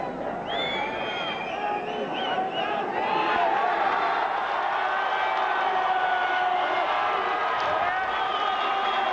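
Arena crowd at a lightweight title boxing match cheering and clapping for the fighter from Pittsburgh, a sustained roar and chatter with whistles, under commentary.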